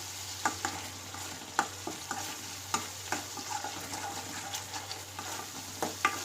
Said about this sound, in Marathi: हे मसाले आपल्याला यामध्ये व्यवस्थित मिक्स करून घ्यायचे आहे